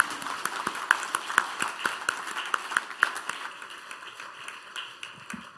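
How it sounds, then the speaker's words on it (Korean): A church congregation gives a round of applause, scattered sharp claps that are brisk at first, then thin out and fade, heard fairly distant and soft in a reverberant hall. "축복의 박수 부탁드리겠습니다."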